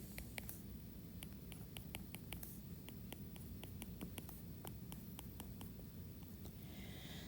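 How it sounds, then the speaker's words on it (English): A pen scratches across paper in quick, irregular strokes, sketching curves in short bursts of faint, close scratching against quiet room noise. "draw a curve for each of these"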